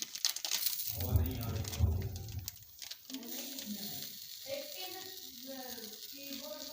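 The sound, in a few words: sizzling in a hot pan as cheese is added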